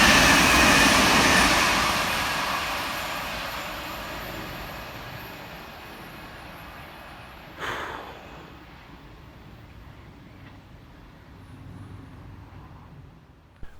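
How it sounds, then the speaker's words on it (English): A Northern class 323 electric train runs fast through Levenshulme station, its broad rushing roar loudest at the start and fading steadily as it passes, followed by a brief sharp sound partway through and quieter rumbling after. "Running through the middle fast for Northern is 323218, working 2K12 from Manchester Piccadilly through to Macclesfield."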